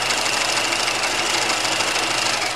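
A sewing machine stitches fabric for pajama pants in a fast, even mechanical whir with a steady rapid pulse, close and continuous throughout.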